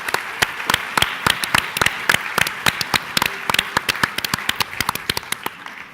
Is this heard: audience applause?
yes